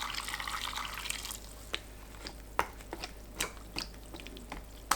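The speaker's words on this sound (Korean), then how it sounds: "뜨거운 상태로 샐러리 위에 부어줍니다." Hot vinegar brine is poured over celery, giving scattered drips and splashes with faint liquid trickling, irregular and close.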